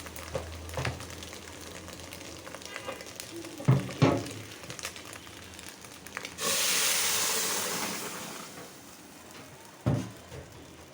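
Hot oil sizzles as a tempering is poured over fried masoor lentils cooked with onion, garlic and egg, a loud steady hiss rising abruptly midway and lasting several seconds, preceded and followed by brief clatters of utensils.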